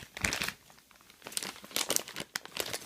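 Packaging crinkles in close, bursty rustles and crumples that come in uneven clusters, fairly quiet and with no talking over them.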